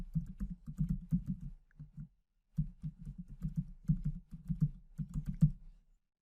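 Someone types a username on a computer keyboard in quick clattering bursts of close keystrokes, with one short pause before a second run of rapid tapping.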